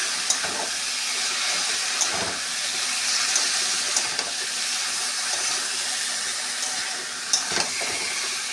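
Water hits a pan of frying fish head curry with potatoes, eggplant and tomato, giving a loud, steady close sizzle and hiss that lasts the whole stretch with a few faint clinks.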